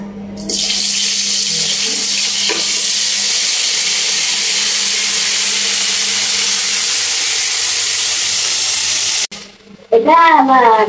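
Potatoes frying in hot oil in a pan give a steady, loud hiss that runs unbroken for several seconds, then cuts off abruptly, followed by a short burst of speech.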